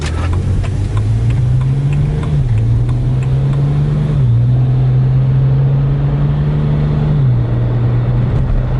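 A BMW 135i with a misfire problem, engine warming up while being driven gently: a steady low drone with slight pitch steps as it shifts, continuous and close throughout, no talking.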